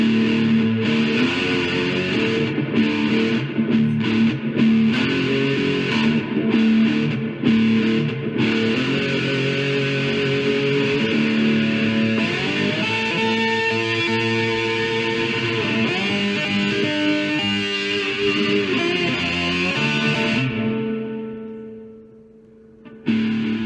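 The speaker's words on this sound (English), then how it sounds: "Now I'm going to try it with a whole lot more distortion." Cigar box guitar fitted with a Kmise pickup, played through heavy distortion: a loud, continuous fuzzy wall of sustained chords that shift pitch over about twenty seconds before fading out near the end, with no talking.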